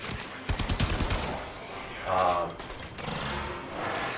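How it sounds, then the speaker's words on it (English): Sliding and gunfire in the video game Warframe: rapid mechanical firing bursts and a whooshing slide effect, fairly close and moderately loud, with game sounds layered throughout. "You can slide and shoot at the same time."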